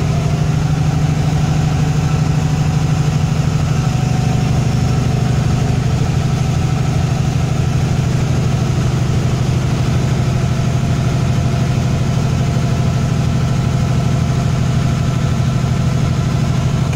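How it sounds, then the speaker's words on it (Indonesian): A backup diesel generator running at a cell tower gives a loud, steady, low engine drone that holds unchanged for the whole stretch, close by, with no voices. "Kita lihat genset langsung menyala. Dalam hitungan 1 detik genset sudah menyala."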